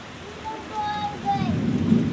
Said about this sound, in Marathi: मम्मी म्हणते गारांचा पाऊस पडतोय